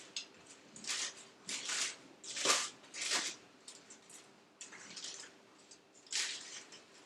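Plastic wrap peeled off a firm, cold sweet cheese ball made with Swerve, giving several soft, close crinkling bursts with short pauses between, quiet and with no talking.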